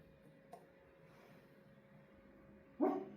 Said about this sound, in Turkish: Küçük küçük yapacağız, havlayacağız.